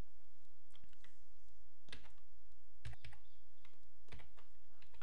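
Computer keyboard keys are pressed while code is edited, a sparse run of soft clicks and a few sharper key taps spread irregularly over a quiet background, close and alone.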